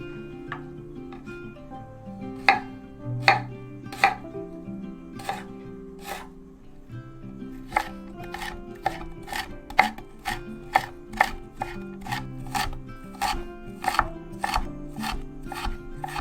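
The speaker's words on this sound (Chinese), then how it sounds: "老姜切成末状" Knife chopping old ginger into mince on a cutting board, a steady run of sharp close taps that falls into a faster, even rhythm in the second half, with no talk.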